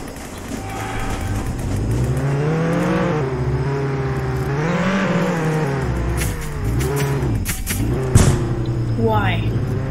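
A car engine in the Roblox game Jailbreak revs and whines, its pitch rising and falling with acceleration as the vehicle drives, steady and close throughout.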